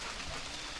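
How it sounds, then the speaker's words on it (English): Steady, soft rain falls throughout, an even broadband hiss with no voices. "It is raining."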